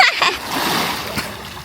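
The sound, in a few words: splash of a person jumping into water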